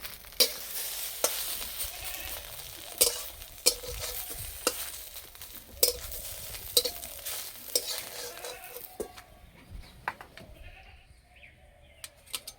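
Omelette pieces fry in a pan over low heat with a steady sizzle, punctuated by sharp scraping and stirring clicks; the sizzling fades toward the end.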